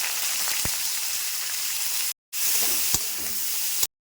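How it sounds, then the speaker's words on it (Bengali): Chopped onion and green chillies sizzling in hot mustard oil with a tempering of nigella seeds and dried red chillies, a steady close hiss of frying broken by two brief silent gaps and an occasional spatter. "এর মধ্যে পেঁয়াজ কুচিটা আর লঙ্কা দিয়ে দিচ্ছি।"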